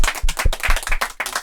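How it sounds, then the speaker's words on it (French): A small group claps for themselves at the close of a French studio session, a short burst of uneven hand claps with some close, loud individual claps. "bravo, on peut s'applaudir."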